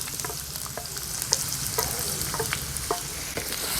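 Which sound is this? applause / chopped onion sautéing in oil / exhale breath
chopped onion sautéing in oil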